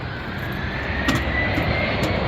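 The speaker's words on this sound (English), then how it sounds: "It's a Gulfstream." A Gulfstream jet's engine roars as a steady, loud whine with a broad rushing drone, continuous and close for a couple of seconds, with faint clicks over it.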